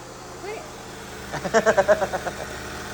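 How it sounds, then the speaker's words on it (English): A 2001 Honda Civic LX 1.7 L engine idles quietly in the background after timing belt and water pump replacement, then a short burst of rhythmic knocking pulses rises and fades over it. "it sounds good. Sitting there and idling good."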